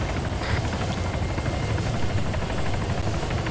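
Helicopter in a military video game, sitting after landing, its rotor and engine producing a steady loud droning whir with constant chopping texture throughout.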